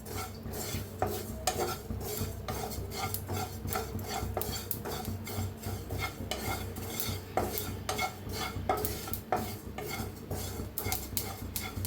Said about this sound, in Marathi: बघा छान असं तटतटायला आलेत कसं